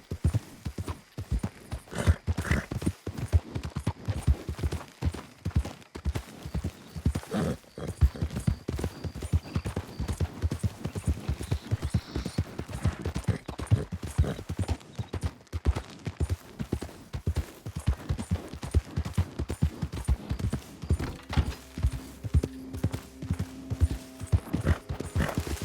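Horse hooves gallop in Red Dead Redemption 2, a fast continuous clip-clop rhythm running for the whole stretch, close and prominent, with occasional snorts and faint game effects under it.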